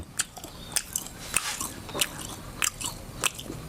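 Close, crisp bites into fried fish with tomato sauce in rural Isan, Thailand, six sharp crunches at a steady pace over faint chewing, with no talk.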